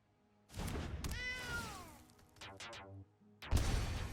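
In MTG Arena, the Cauldron Familiar card lets out a clear, close cartoon cat meow with a rising and falling pitch, framed by heavy game thuds and impact effects before and after.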